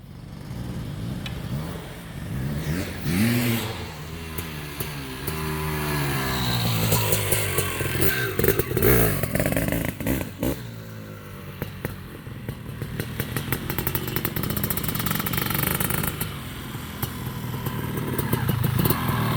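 A 1989 Honda CR500R big-bore two-stroke motorcycle engine runs loud and close, its raspy buzz rising and falling through repeated revs and settling back toward idle, with a dense, steady roar throughout.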